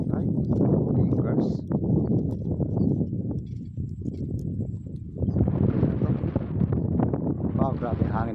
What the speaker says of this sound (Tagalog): Wow, grabe hangin na guys.